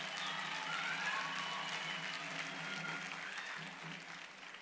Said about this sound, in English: Graduates, please, let us give them a big round of applause.